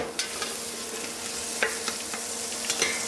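Sliced carrots sauté in olive oil in a pot, giving a soft, steady sizzle broken by occasional scrapes and clicks as they are stirred, fairly quiet and close.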